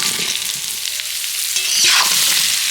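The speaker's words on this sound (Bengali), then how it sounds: "এবার এই 5 ফোড়ন আর লবণ হলুদ গুঁড়োটাকে একটু তেলের সাথে এইভাবে নাড়াচাড়া করে একটু ভেজে নেব" Panch phoron spices with salt and turmeric powder sizzle in hot oil in a pan, a steady close crackling hiss with a soft scrape of stirring.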